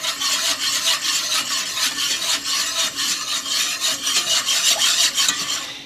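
Gratin dauphinois mixture with nutmeg stirred in a pan, a continuous close scraping and rubbing with quick repeated strokes, fairly loud and steady throughout.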